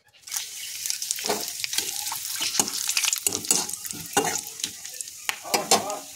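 Cumin seeds, whole garam masala and bay leaf crackle and sizzle as they hit hot oil in a pan, with stirring scrapes and bursts of spattering, close and bright with no talking.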